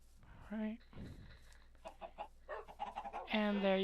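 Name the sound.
chickens clucking in the video game Minecraft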